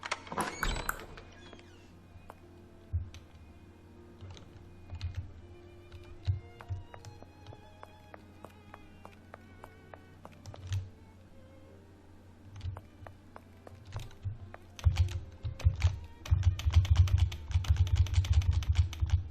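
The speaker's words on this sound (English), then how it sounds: "Spamming my spacebar." A computer keyboard spacebar is pressed rapidly and repeatedly while a Sherlock Holmes Nemesis PC game plays. Sharp close clicks come in irregular bursts and grow dense and loud toward the end, over a low steady background hum.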